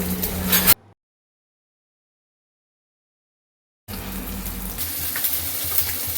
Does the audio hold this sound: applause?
no